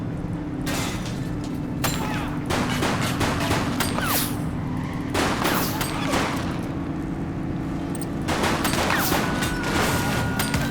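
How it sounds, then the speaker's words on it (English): Sustained gunfire in The Precinct, a sandbox police sim, with repeated bursts of automatic shots crackling over a steady low engine hum, loud and close throughout. "She's shooting!"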